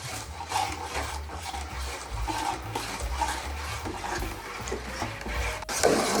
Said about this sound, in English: as you're stirring it, you can feel like the sugar. Yeah, and then exactly. you can hear them. Yeah. Kind of like scraping